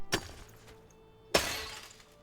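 A worn-out pickaxe breaks in the game Enshrouded with a brittle, pottery-like shatter; two sharp crashes sound, the second louder with a crumbling tail, no voices.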